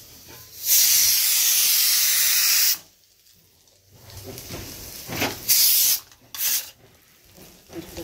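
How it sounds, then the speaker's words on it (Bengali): Okra (bhindi) frying in a pan gives loud, harsh sizzling hiss in a long burst, then a quieter stretch and two shorter hissing surges, with no talk. "ভেন্ডি ভাজা হচ্ছে।"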